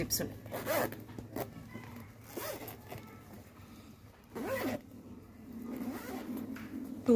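A zipper on a leather sling handbag is pulled open and closed in several quick rasping strokes, heard over someone talking nearby.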